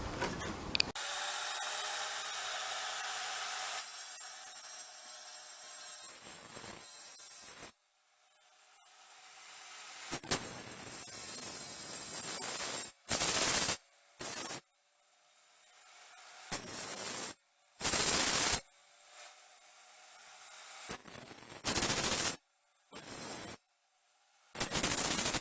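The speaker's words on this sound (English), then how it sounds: "we need to do a little bit of grinding on this so that it fits against this composite" A power grinder cutting a concrete DekTek deck tile so it fits against composite decking, loud and close, running in long steady bursts and then short on-off pulses with brief silences between them.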